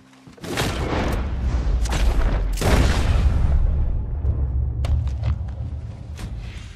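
A gunshot rings out in Red Dead Redemption 2 as a loud, booming blast that leaves a long rumbling tail, with a second heavy crack following about two seconds later and fainter sharp clicks near the end.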